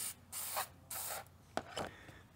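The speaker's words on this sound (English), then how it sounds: "I'm just going to pick up a can of non-flammable brake parts cleaner. Hose them down really good." Aerosol non-flammable brake parts cleaner sprays onto the brake pads of a Honda CB500X in several short, hissing bursts of about half a second each, fairly quiet and close.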